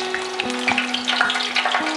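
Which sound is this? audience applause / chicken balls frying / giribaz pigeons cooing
chicken balls frying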